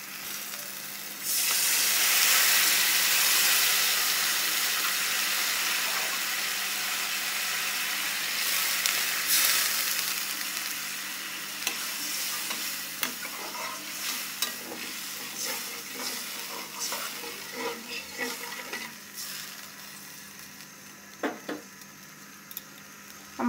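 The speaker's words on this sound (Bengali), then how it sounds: "এখন আমরা এগুলো একটু বলক আসা পর্যন্ত জাল দিতে থাকবো। দেখুন আমাদের তরকারিতে বলক চলে আসছে।" Chicken and cauliflower kofta curry in a pan, with water just added and the gravy coming to a boil, gives off a loud hiss and sizzle that gradually settles into softer bubbling, broken by occasional stirring scrapes and clinks, with no talking.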